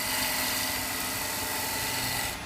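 Skew chisel cutting a natural edge wooden bowl on a lathe, a continuous loud hissing whir of the spinning wood against the blade, steady and close for the whole stretch with no talk.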